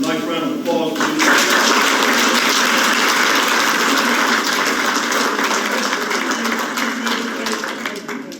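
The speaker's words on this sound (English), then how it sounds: "We're going to have a nice round of applause for you." An audience at a county commission chair candidate forum breaks into dense, sustained applause that fills the room at close range and slowly tapers off, with some voices mixed in.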